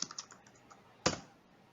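Someone types on a computer keyboard, a quick burst of light clicks followed by one sharper, louder keystroke, all faint and close with no talking.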